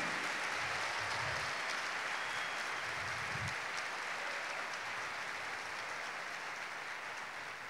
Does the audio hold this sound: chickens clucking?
no